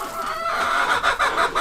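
Small young rooster on a farm, clucking in a quick series of short calls over a steady outdoor background, fairly near and moderately loud.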